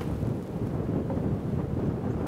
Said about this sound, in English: I don't know how much you can hear the wind, but it's decently significant out here.